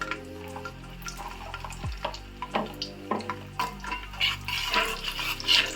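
Ginger slices and garlic frying in hot oil in a pan, a close, busy sizzle with crackles and pops throughout, no talking.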